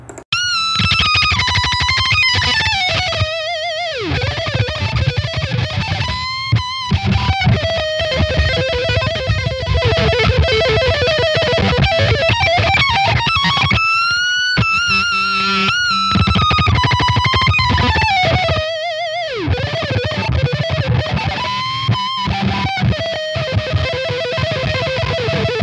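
Doubled electric guitar track played through the Vadim Taranov MegaFuzzie RedFire fuzz VST plugin, a loud, thick, saturated fuzz tone with sustained chords and bending lead lines, briefly cutting out between phrases.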